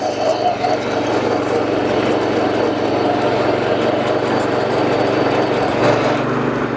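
Power tiller engine running in first gear while ploughing a farm field, a steady, loud, continuous mechanical drone throughout with a slight rise near the end and no speech over it.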